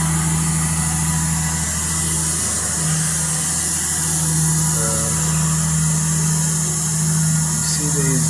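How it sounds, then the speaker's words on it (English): A Volvo engine runs at a steady idle, giving a loud, constant droning hum that stays unchanged from start to finish, with no talking. "As you can see, there is an engine there."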